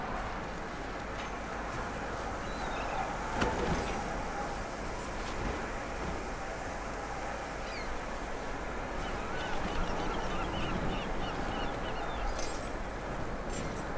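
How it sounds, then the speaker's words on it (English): A flock of birds honking and calling in a Deus Ex: Mankind Divided game scene, a dense, continuous chorus of faint distant calls over a windy ambient bed. "A lot of birds."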